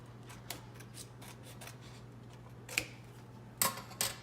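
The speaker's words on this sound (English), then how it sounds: "then trim your edges with a pair of scissors" Pair of scissors trimming the edges of taped paper pages during bookbinding; soft repeated snips build to a few sharp, crisp cuts near the end, close and quiet.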